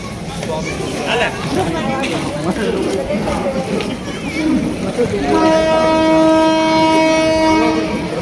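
A passenger train ride: carriage rumble and clatter with people talking, then a loud, sustained train horn blares close by for the final few seconds.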